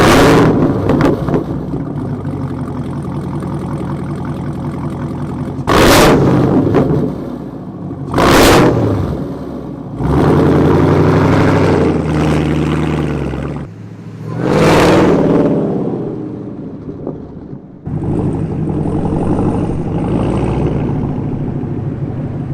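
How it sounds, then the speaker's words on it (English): The exhaust of a 2022 Chevrolet Camaro ZL1 with no mufflers rumbles at idle, broken by several sharp revs and a longer sustained rev, loud and close throughout. "let me let you hear this amazing exhaust"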